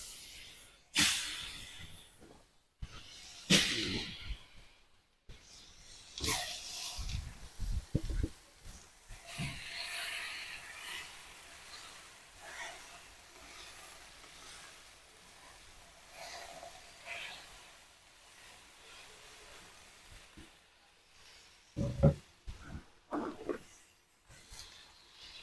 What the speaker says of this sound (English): Now it's time to get our pork on. Place these across the griddle.